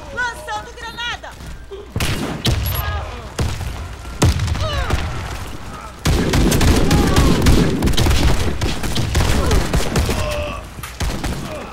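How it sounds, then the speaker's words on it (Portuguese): Gunfire and explosions from the video game Warface, including a thrown grenade, come in repeated loud bursts and booms, with a dense sustained fusillade in the second half and a voice talking over parts of it. "Lançando granada."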